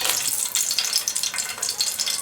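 Dried red chillies drop into hot ghee for a dal tadka, giving a steady, bright crackling sizzle that stays close and even for a couple of seconds with no voices.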